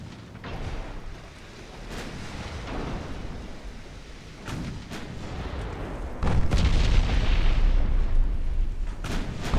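14-inch naval guns firing in a video game battle with a semi-dreadnought: heavy deep booms and rumbling blasts build through the scene, with a loud sustained roar of fire in the final seconds.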